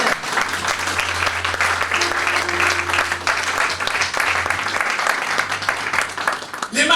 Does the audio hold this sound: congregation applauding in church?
yes